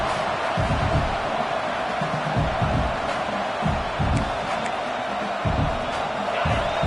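A large stadium crowd at a football game roars steadily throughout, a dense continuous wall of noise with occasional louder swells and a commentator speaking over it.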